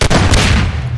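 A single loud, booming RPG rocket blast in Half-Life 2: Deathmatch, close and heavy, fading out over about a second.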